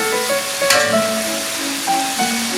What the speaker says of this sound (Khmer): បន្ទាប់មកយើងឆាវាឲ្យគ្រឿងសាច់ ទាំងអស់នោះវាសព្វចូល